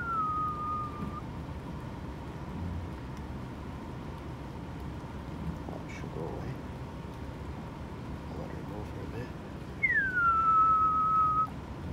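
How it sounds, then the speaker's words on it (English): Someone outdoors blows a deer whistle to stop a deer: two short, sharp, falling whistle tones, one at the start and one near the end, over a steady hiss of background noise. "The good old deer whistle."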